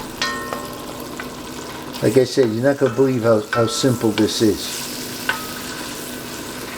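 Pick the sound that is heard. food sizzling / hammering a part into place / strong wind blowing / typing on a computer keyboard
food sizzling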